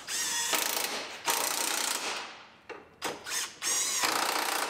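An electric impact wrench tightening suspension bolts on a Subaru Forester, loud and close, in several short bursts of rapid hammering whir separated by brief pauses.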